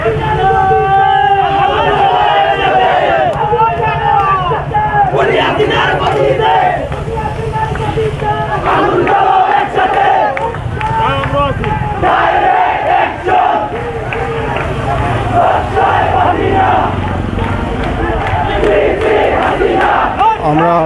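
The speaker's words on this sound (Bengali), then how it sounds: "অনেক শিক্ষার্থীরা এই মুহূর্তে অবস্থান করছেন এখানে এবং স্লোগান দিচ্ছেন তারা" Students chant slogans at a protest march in the Surma area of Sylhet, a large crowd shouting in strong rhythmic unison, loud and sustained, with a reporter talking over the chanting.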